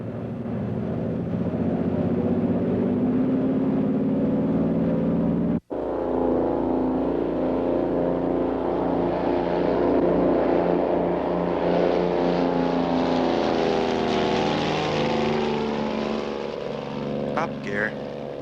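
Twin engines of a Twin Bonanza airplane drone loudly and steadily during takeoff from runway 25 left at Los Angeles, the throbbing pitch rising slightly as power builds, with a brief dropout near the start.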